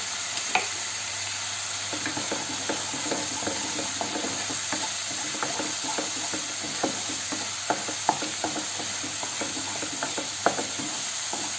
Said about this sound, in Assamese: এইখিনি ভালকৈ যেতিয়া ভজা হ'ব